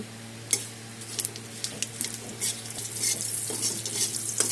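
Dry red chilli, bay leaf and whole spices sizzle in hot oil for a Bengali vegetable dal, with steady close frying and a few sharp scraping stirs of a spoon against the pan.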